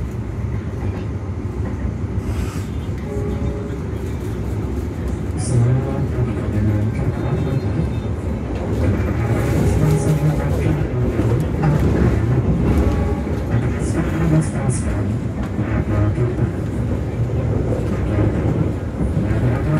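The Argo Lawu luxury passenger train on the Solo–Jakarta line running at speed, a continuous loud rumble of wheels and carriage with rhythmic rail clatter, heard from inside the coach.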